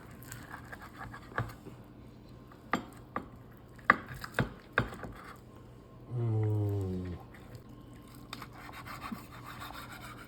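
A knife cuts into tender crockpot-cooked ribs on a board, giving a series of scattered, sharp taps and scrapes, followed by a brief, louder rushing burst.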